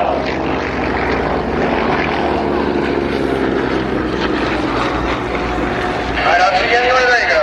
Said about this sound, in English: Look how tight he can pull this airplane around in the confines of the show area of the airport.